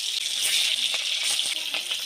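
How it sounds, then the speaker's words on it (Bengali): Turmeric-coated fish fries in hot oil, giving a loud, close, continuous sizzle and crackle with a few brief spits. "এবার মাছগুলো ভেজে নেব"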